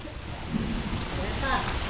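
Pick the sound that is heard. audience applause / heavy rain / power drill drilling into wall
heavy rain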